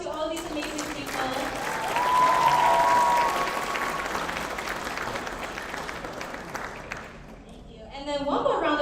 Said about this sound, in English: So can we just give a round of applause to all these amazing people?